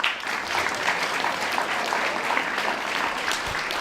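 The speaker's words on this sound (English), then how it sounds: "Give him a round of applause." An audience at a leadership talk at Lea Manor breaks into sustained applause, a dense even wash of many hands clapping that carries on for several seconds without speech.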